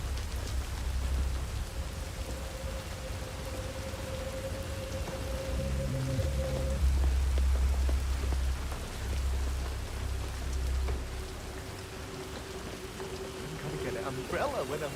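Steady rain falls in the stealth game Hitman 3, a dense hiss pattering across surfaces throughout, with a low rumble and a faint sustained tone underneath and a voice murmuring in places.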